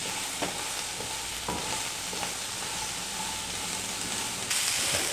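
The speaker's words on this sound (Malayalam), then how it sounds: "ഇത് നന്നായി ഒന്ന് വഴന്നിട്ട് വേണം നമുക്ക് മറ്റുള്ള ചേരുവകൾ ചേർത്ത് കൊടുക്കാൻ." Salted onions and coconut pieces sautéing in a pan make a dense, continuous sizzle like heavy rain, with a few faint stirring knocks; the sizzle swells louder near the end.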